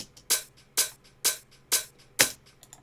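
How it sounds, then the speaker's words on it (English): Tech house hi-hat built from four layered samples, five crisp bright hits in an even offbeat pulse with faint ticks between them, dry and up front. "I layered 4 different hats here to get the final sound"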